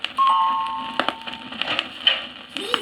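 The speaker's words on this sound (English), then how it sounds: "he decided to ring the bell of a small house at the side of the road" A doorbell rings at a small roadside house, a clear two-tone chime sounding near the start, followed by scattered knocks and small wooden clatters at moderate volume.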